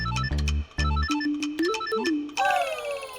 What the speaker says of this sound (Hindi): लगता है आर्यवर्धन सर का फोन है।